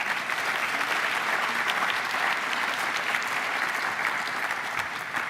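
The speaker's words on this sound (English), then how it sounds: "Let's give another round of applause." A large audience at a national debate championship applauds, dense, even clapping that holds steady and loud throughout without a break.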